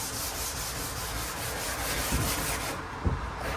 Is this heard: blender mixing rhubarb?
no